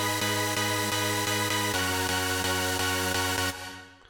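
Bright, buzzy synthesizer chords from a sharp EDM chord preset, pulsing in a rapid steady rhythm, shifting once midway, then cutting off into a brief reverb tail.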